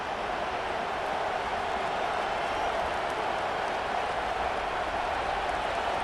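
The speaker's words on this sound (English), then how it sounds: "This crowd is trying to inspire this defense to make a big red zone stop." Steady, roaring stadium crowd from EA Sports College Football 25 swells as the defense faces a red zone stand, a continuous broad wash of cheering with no gaps and no voices standing out.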